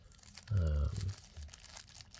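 Taped wax paper packaging is peeled and unwrapped around a leather wallet, giving a loud close crinkle and tear in the middle, then softer rustling, with a voice talking over parts of it.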